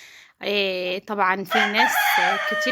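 An Indian breed rooster crows loudly and close by, with a long harmonic call broken into several segments. A person speaks briefly during it.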